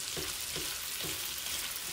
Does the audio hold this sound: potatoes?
yes